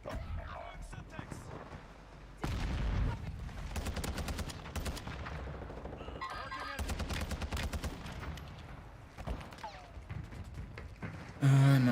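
Automatic gunfire in the shooter game Warzone, bursts of rapid shots rattling in the background while a voice talks over them and game sounds come and go.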